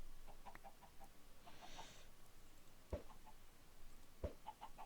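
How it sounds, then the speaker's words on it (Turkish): Chickens cluck softly in short scattered bursts inside a house in a modded survival video game, with a couple of sharper knocks breaking through the quiet pecking chatter. "Evet evin içi tavuk doldu."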